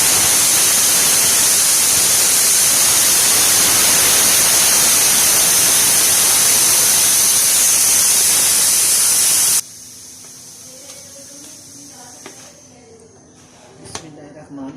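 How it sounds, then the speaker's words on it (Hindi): Pressure cooker of daal gosht (lentils with meat) gives a loud, steady hissing rush of escaping steam that cuts off abruptly, leaving faint clinks and quiet kitchen sounds. "अब मैं प्रेशर कुकर को खोल के"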